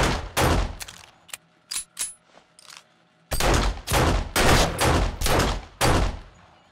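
Hunting rifle fire in the zombie survival game 7 Days to Die, a rapid string of loud, close gunshots with sharp bursts, a brief lull, then a heavier steady barrage of shots.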